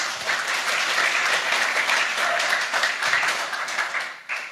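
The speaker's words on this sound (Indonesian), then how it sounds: "Bisa berikan tepuk tangan buat mereka semuanya." A church congregation applauds the young people serving in the service, a dense, steady wash of clapping that fills the room for several seconds before tapering off near the end.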